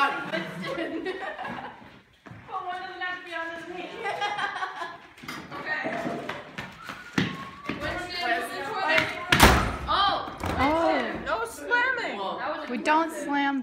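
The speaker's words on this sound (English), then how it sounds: "Winston, we don't slam doors in my household" A door slams once with a sharp, loud thud in a household, surrounded by ongoing talk and some laughter from people nearby.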